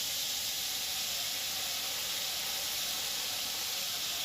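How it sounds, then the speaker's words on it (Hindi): Tomato puree poured into hot oil tempered with bay leaf, cinnamon and whole cardamom for a fish curry, sizzling with a loud, steady hiss that continues without a break and without talk. "अब डालबो प्यूरी जो मिक्सी में पीस के रखे रहे तेल ला।"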